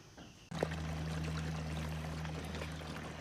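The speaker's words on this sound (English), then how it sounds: "we've cracked the union just a little bit to let some air in there. You can see that everything's kind of draining out." After a sharp click, water steadily drains and pours out of a chlorinator chamber through a cracked pipe union, a continuous close trickling stream over a low steady hum.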